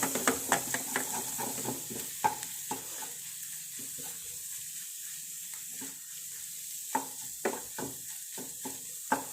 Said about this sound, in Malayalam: ഒരു നുള്ളു കുരുമുളക് പൊടി ഇളക്കിയെടുക്കുക